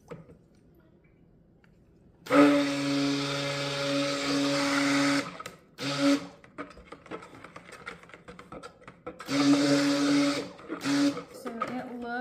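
Lye water being blended into oils for a pink Himalayan salt cold process soap: two loud, steady motorized whirring bursts of a few seconds each, with quieter clatter and handling noises between them.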